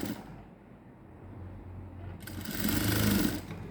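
A sewing machine runs a seam on a princess-cut blouse with balloon sleeves, a close, continuous whirring hum that grows brighter and louder in its second half.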